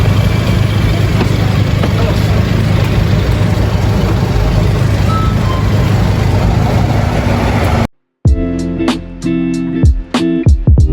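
A tour vehicle on a North Coast tour in Taiwan rumbles close by with a steady low engine drone, then the sound cuts abruptly and gives way to a different scene with sharp rhythmic knocks and voices.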